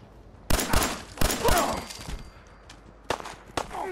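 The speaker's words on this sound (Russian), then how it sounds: "по радостным выстрелам мы понимаем, что нас заметили" Gunfire in Fallout 4 comes as several sharp, loud shots in irregular bursts, with brief echoing tails between them.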